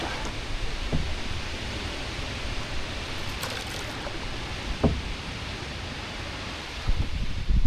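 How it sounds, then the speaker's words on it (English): Strong wind buffets the microphone on the River Waveney during a canoe trip, a steady broadband roar with a few faint knocks and gusts rising near the end. "Wind is very strong still."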